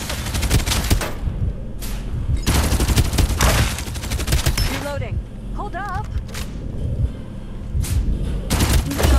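Gunfire in the video game Farlight 84: loud bursts of automatic shots in rapid clusters, separated by short pauses, with someone talking over the action.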